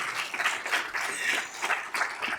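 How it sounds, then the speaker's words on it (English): Scattered, fairly faint clapping from a modest audience at an annual academic colloquium, irregular and thin rather than a full ovation. "you can clap it up for that"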